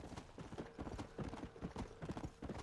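Horse hooves clip-clopping in a steady, brisk rhythm in Red Dead Redemption: Undead Nightmare, fairly close and continuous, with no talk over it.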